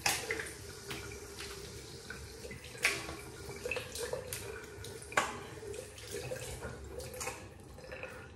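A kamisori straight razor is rinsed under a running tap. A faint, steady stream of water carries a few splashy surges and small clinks, with no talking.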